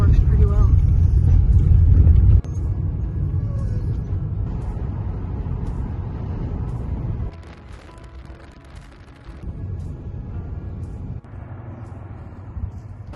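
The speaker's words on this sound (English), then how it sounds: "Off-roading in a Hyundai Accent actually works pretty well" A Hyundai Accent driving off-road, heard from inside as a loud, steady low rumble of engine and tyres that drops and shifts in level partway through as the ground changes.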